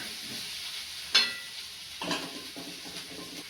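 Roasted masala with sesame seeds being stirred in a pan, a faint dry sizzle broken by a sharp scrape or clink of the utensil and a few soft stirring strokes, quiet and close without speech.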